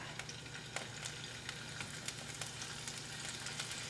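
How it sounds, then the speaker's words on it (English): Tofu strips sizzle in hot oil in a pan, a close, continuous hiss and crackle with small sharp pops scattered throughout, no voices. "as soon as you put a piece of food down, you want to hear it sizzle"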